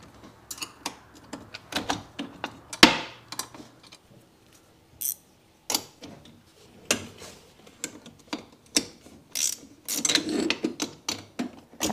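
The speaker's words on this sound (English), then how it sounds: "taking off all the 10 mil bolts" Ratchet clicking as 10 mm bolts are backed out of a Sea-Doo jet drive, irregular close bursts of sharp ticks with short pauses between turns.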